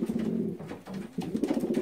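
Breeding pigeons coo softly in a loft, with low, rolling calls repeating in a steady rhythm and a brief lull midway before they pick up again, fairly quiet and with no talking.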